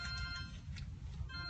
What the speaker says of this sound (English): That's my phone ring